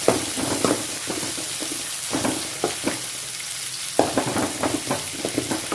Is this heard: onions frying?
yes